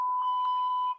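A single loud, steady censor beep on a live stream, a pure tone lasting about a second before cutting off.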